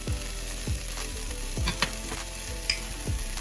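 Boiled frozen peas with chili powder, salt, turmeric and cumin frying in a pan, a steady soft sizzle broken by repeated stirring scrapes and a few light clinks of the spoon, close and without talk.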